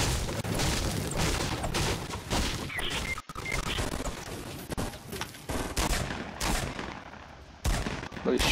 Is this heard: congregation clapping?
no